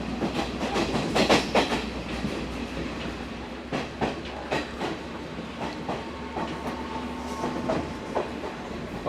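A train on the Colombo to Kandy line runs steadily on its rails, with a continuous rumble and rhythmic clickety-clack of the wheels heard from inside the carriage.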